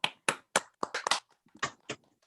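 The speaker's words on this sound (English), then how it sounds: "why don't we unmute so that they can hear our applause in these last moments" Scattered, uneven hand claps from a small online audience after a prose faculty reading, a few sharp close claps in irregular bursts that fade out quickly.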